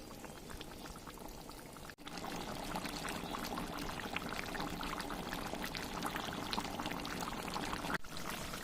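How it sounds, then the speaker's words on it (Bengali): Water pours steadily into a pot of cooking meat, a rushing, bubbling stream that drops out briefly near the start and again near the end, with no one talking. "জল দিয়ে দিয়েছি"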